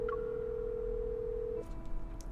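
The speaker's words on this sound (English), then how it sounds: "I try calling Caleb, but he doesn't answer the phone after 2 rings." A phone call rings out unanswered in the game Love & Deepspace, a steady electronic ringback tone holding for about a second and a half before cutting off, followed by faint clicks and a quieter residual tone.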